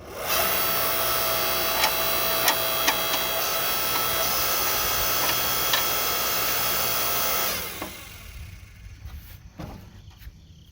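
A Wen electric log splitter runs with a steady, loud motor hum punctuated by sharp clicks and cracks of wood, then winds down to quieter scattered knocks.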